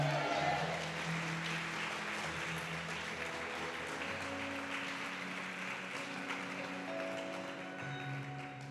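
A church congregation applauds with soft, continuous clapping, heard at a distance under sustained musical tones and a faint voice.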